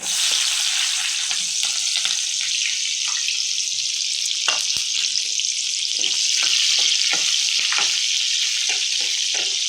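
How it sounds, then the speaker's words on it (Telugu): Onion and green chilies sizzle steadily in oil in a pan, a continuous bright frying hiss with scattered soft stirring clicks and scrapes throughout, close and fairly loud, no voices. "కొంచెం దోరగా ఫ్రై అయ్యే వరకు బాగా వేగనిద్దాం."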